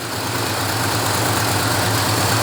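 The engine of a 1968 Chevrolet C-10 pickup idles high in a steady, even drone with a low throb. It sounds close and fairly loud and runs unchanged the whole time, with no talking.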